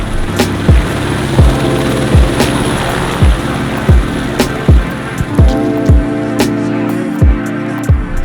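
A helicopter arrives at a St Tropez mansion with a loud, steady rhythm of rotor thumps over a continuous engine drone. No one speaks.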